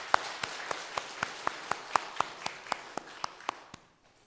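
A church congregation at a Sunday service applauds in a steady, even rhythm of about a dozen evenly spaced claps of moderate loudness, with soft crowd ambience underneath, fading to quiet at the end.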